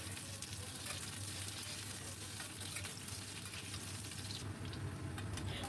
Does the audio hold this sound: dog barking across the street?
no